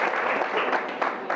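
An audience at a presentation claps briefly, a close, moderately loud patter of hands that rises and falls over a second or so.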